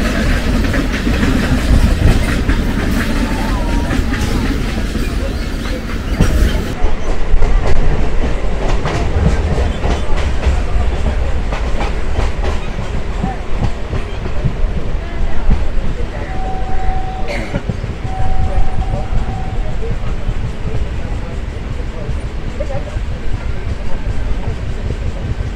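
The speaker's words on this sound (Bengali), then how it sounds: "আর এই যেমন ট্রেন মন্ডল ঢুকছে, মেন লাইন থেকে এলো।" Near Barasat, a train pulls into a station off the main line with clickety-clack wheels and a heavy rumble, easing off partway while the engine idles, and crowd chatter sits faintly underneath.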